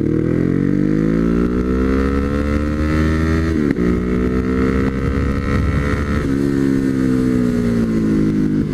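A Ducati Hypermotard 939 motorcycle being ridden, its loud engine droning steadily close up with pitch sliding down and back up as speed shifts, wind rush underneath.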